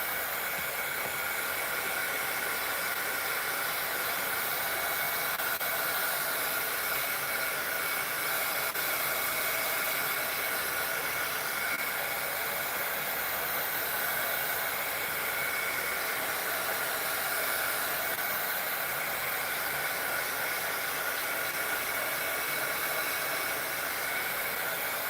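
A hair dryer blowing steadily over a gouache painting, a loud, constant airy roar and hiss that runs unbroken for about twenty-five seconds with no voices.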